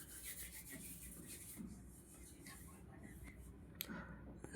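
Flour dough for manchurian is kneaded by hand in a bowl, giving faint, soft rubbing and pressing sounds at close range and a small knock at the end.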